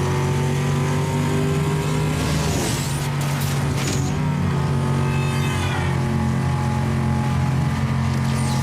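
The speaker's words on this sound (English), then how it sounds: "Car sure is driving." A car engine revs steadily in a drag race video game, with a sustained droning tone that shifts pitch partway through, as if changing gears, and plays alone at a consistent level.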